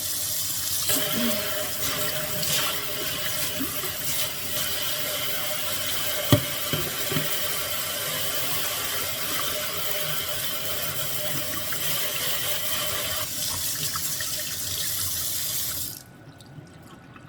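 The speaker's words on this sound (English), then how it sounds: "Let's turn the water on." Tap water runs steadily into a sink while prickly pears are rinsed, a continuous close splashing rush with a few knocks before the flow is shut off near the end.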